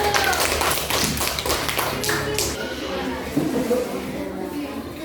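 A classroom of students claps for a presenting group, a burst of dense, close hand claps and taps that fades out after a couple of seconds, followed by quieter room murmur and shuffling.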